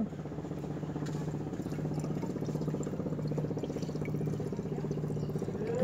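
Water pours steadily into a car's open radiator, a continuous, even rushing that holds at one level throughout, with no voices.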